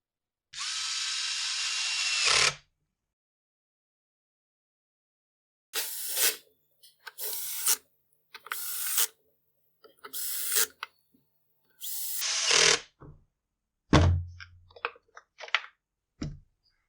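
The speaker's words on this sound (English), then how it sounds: "You just run the screws in, If you're going to use a driver like this, make sure it's got a clutch so you don't strip the screws out." Power driver running screws into a Husqvarna 125b leaf blower fan shroud, a sharp whine in one long burst followed by several short whirring pulses and small clicks and clatter, close and with no talking.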